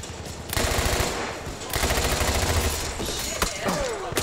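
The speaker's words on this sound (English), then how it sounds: "Someone shooting me in the back from the other side." Rapid automatic gunfire in Battlefield 1 comes in loud sustained bursts from behind the player, with a brief gap between volleys and a sharp impact near the end.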